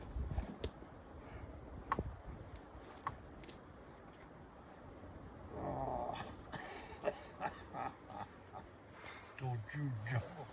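A puppy named Petey whimpers and growls in a snowbound van, with short yips scattered among people talking nearby.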